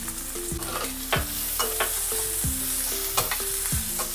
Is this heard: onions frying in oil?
yes